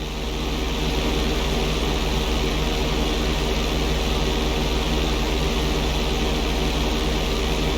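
A steady, loud drone of a plane engine holds through a flight lesson in GTA V, a constant low hum with a propeller-like buzz that barely changes.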